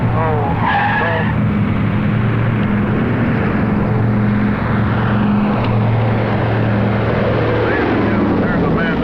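A B-17 bomber with only one landing gear down comes in to land, its loud roaring drone filling the air with a skidding scrape while voices shout over the noise.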